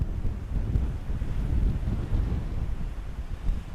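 Rough, gusty wind buffeting the microphone outdoors while zeroing a 17 HMR rifle, a low rumbling roar that swells and dips throughout, with no voices.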